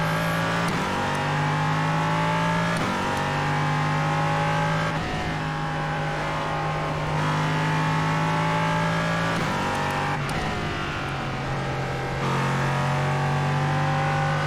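An LMP3 sports car engine in iRacing at Watkins Glen, loud and close, holding high revs with repeated upshifts and downshifts and sharp changes in pitch as the car laps the circuit.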